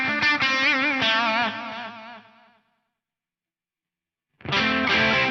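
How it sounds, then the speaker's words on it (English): A processed electric guitar lead through a BOSS DD-200 dual delay, with layered, shimmering delay repeats, rings out, cuts off into silence, then a loud effected phrase returns. "number 1 was my dual delay for leads"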